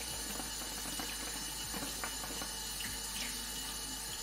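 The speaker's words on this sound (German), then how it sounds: "Mit heißem Wasser auswaschen." Hot tap water runs steadily into a sink while a hookah bowl is rinsed, a constant close hiss with faint knocks and clinks, no talk.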